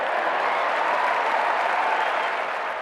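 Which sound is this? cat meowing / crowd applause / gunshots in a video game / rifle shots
crowd applause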